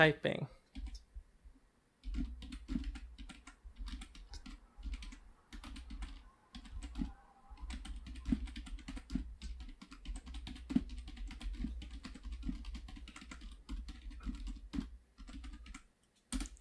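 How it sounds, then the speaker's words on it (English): Fingers type steadily on a computer keyboard, making dense quiet clicks with short pauses, heard close along with a low hum. "Typing."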